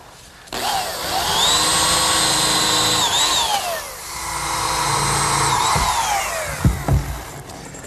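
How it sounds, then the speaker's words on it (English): A power drill pre-drills screw holes in wood during picnic table assembly, running steadily for several seconds with whining speed changes, then tapering off into a couple of short bumps and knocks. "Now pre-drill for some screws."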